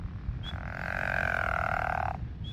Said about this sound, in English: the pickerel frogs have a soft grating kind of snore noise that they make